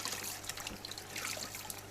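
Water trickles and dribbles steadily into an aquarium bucket as a filter sponge is pressed and squeezed, a close, continuous splashing stream without talk.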